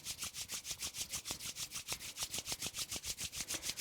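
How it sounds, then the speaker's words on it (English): Palms rubbing together briskly during a calming breathing exercise, a soft, close, rhythmic swishing of skin repeating about five times per second, faint and without talk. "rubbing the palms together"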